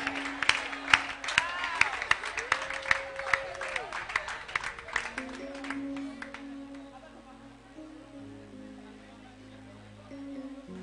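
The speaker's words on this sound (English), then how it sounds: "You must clap your hands" Church congregation applauding in bursts of scattered clapping that fade after a few seconds, leaving sustained organ or keyboard chords and a faint voice in the background.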